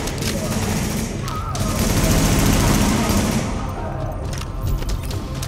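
Sustained automatic gunfire in Tom Clancy's The Division, Dark Zone, rattles on as a dense, loud fusillade with booming bursts for several seconds, and a voice speaks over it.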